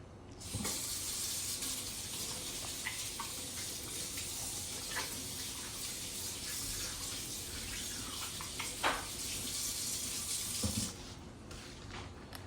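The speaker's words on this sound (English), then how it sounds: "once you're done cracking the eggs, make sure you wash your hands because cross-contamination" Hands washed under a running kitchen tap after cracking eggs, water streaming steadily and splashing close by for about ten seconds before it cuts off, with a few brief clunks and no talking.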